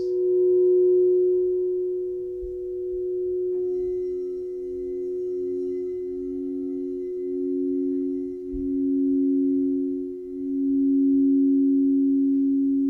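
Singing bowls ringing in a quiet sound bath, one sustained pure tone joined by a second bowl whose hum pulses in slow, steady wavering beats, soft and alone without talking.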